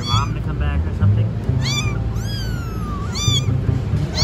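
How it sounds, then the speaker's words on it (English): Several stray kittens hiding under a roadside barrier in a Philippine city mew in repeated thin, high cries, some short and some drawn out, over a steady low rumble of traffic and nearby voices. "There's like 7 or 8 kittens under this barrier here."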